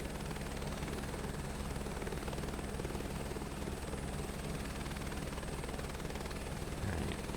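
A helicopter in Microsoft Flight Simulator 2024 drones on continuously, a steady rotor and engine roar at even loudness with a high whine above it, and no speech.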